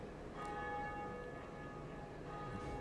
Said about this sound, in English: Ringing bells.